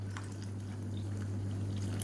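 Hot water is poured into ragi soup in a home kitchen, a soft, faint steady pour with a low hum beneath, no talk.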